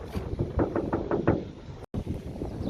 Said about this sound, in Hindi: तो अभी खड़काते हैं दरवाज़ा गाड़ी का।